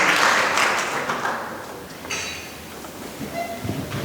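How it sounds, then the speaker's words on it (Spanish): Clapping in a church congregation, a loud burst of many hands at first that gradually thins and fades, with faint murmuring voices and a few clicks toward the end. "palmas al Señor"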